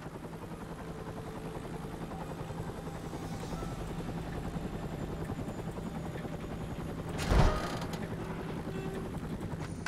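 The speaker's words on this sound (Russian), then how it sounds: "Я пришлю вертолет." Helicopter in the video game Stranglehold, a steady, loud rotor thump and engine drone throughout, with a brief burst of noise swelling near the end.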